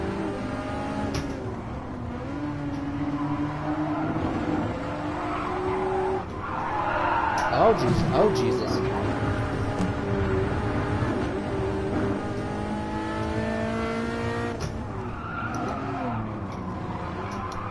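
A Mazda 787B Le Mans race car in a sim racing game screams with a high, sustained engine whine that rises and falls through gear changes, with tire squeal, while a voice exclaims briefly over it.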